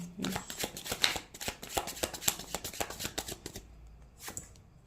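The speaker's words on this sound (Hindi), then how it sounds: "नहीं मैं और कुछ कार्ड्स निकाल लेती हूँ" Tarot cards being shuffled and drawn, giving a run of quick papery riffles and flicks with soft slaps as cards land, close and moderately loud, with a pause near the end.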